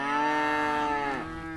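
Hereford cross cattle on an Arizona ranch in Aguila give a single long, loud moo close by that holds steady and then drops in pitch toward the end, with no talk over it.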